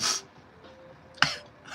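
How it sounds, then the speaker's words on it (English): A single sudden sneeze bursts out close by during a live tarot reading, sharp and brief, followed by a quiet breathy tail. "where'd that sneeze come from?"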